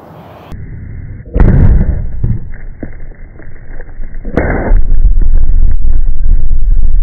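A granite rock blast on a street excavation site goes off as one sudden loud boom at close range, followed by a long rumbling roar and debris noise that stays loud to the end.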